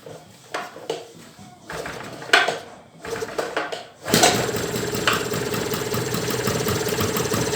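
An 800 W petrol generator with a no-spark fault is being started: first scattered clatter and handling knocks, then at about four seconds the engine catches and runs with a loud, steady buzzing drone to the end.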